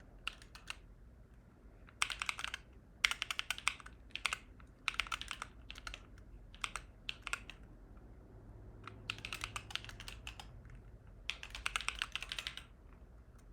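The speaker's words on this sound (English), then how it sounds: "I have to just bang out some typing quick" Fast typing on a computer keyboard during a coding session, with quick clattering bursts of keystrokes separated by short pauses, close and fairly quiet, without any talk.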